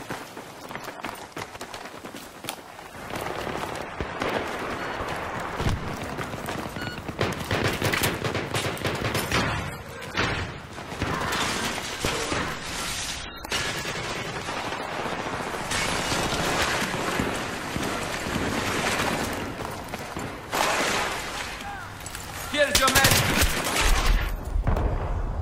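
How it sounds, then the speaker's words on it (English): Rapid, crackling bursts of automatic gunfire from teammates in Battlefield 3 on the Ziba Tower map, dense and continuous shooting throughout, fairly loud, no voices. "Teammates shooting at me, that's always helpful."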